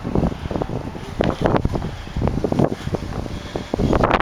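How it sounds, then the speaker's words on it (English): Gusty wind buffets the microphone in a backyard in uneven rushes and rumbles, loud and close, with no voices. "Windy day."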